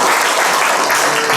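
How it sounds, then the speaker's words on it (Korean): An audience at a youth civil servants' education session bursts into dense, loud, continuous applause that fills the room without a break. "박수 한번 주셔도 될 것 같아요."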